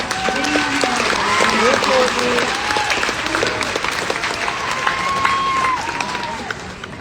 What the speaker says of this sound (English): please rise and let's give them applause